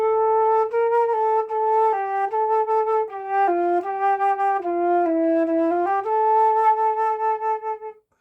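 A flute plays a plain Turkish melody without ornaments, clear sustained notes stepping up and down one after another, solo and close, ending with a fade.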